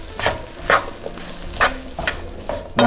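Seasoned tofu stir fry mixed in an oil-free pan, with several distinct scraping strokes of a utensil over a soft sizzle, close and fairly loud, with no voice.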